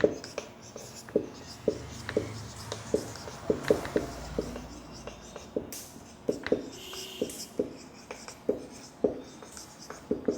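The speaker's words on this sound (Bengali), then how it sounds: "তো আমি সরাসরি লিখছি" A pen writing by hand while working a math problem, with light scratching strokes and taps in an irregular rhythm, close and fairly quiet, heard alone.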